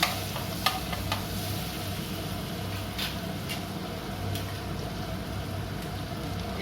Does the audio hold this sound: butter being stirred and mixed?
yes